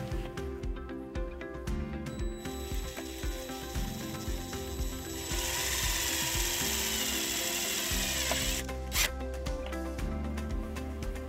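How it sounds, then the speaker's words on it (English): A self-tapping screw being driven in to ground the white wire of a trailer wiring harness on a 2018 Mitsubishi Outlander: continuous close ratcheting and mechanical clicking, growing louder and busier partway through, with no talking. "now we're going to ground our white wire with the tap screw that was included in the kit"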